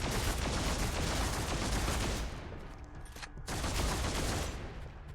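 Sustained volleys of gunfire from the game Deathwatch: Tyranid Invasion fill the clip, a dense, loud barrage that dips briefly in the middle before resuming at full force.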